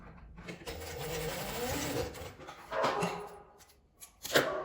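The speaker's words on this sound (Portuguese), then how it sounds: "Vou passar uma costura aqui nas laterais, deixando uma pequena abertura no meio pra desvirar." A sewing machine runs in bursts as it stitches the side seams of a small fabric card purse, its fast mechanical whir pausing and restarting, close and fairly loud.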